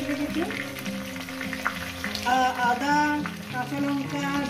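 A ground paste of ginger, green chilli, two kinds of mustard and cumin hits a hot pan and sizzles, a continuous frying hiss under background music with a light stirring clatter.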